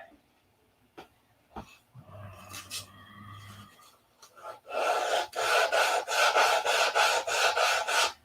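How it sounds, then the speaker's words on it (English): Sandpaper rubbing across the underside of a P-47 model airplane, a steady rhythmic rasp of repeated strokes that grows loud and close in the second half after quieter scraping and handling noises. "Nope, I gotta sand this bottom."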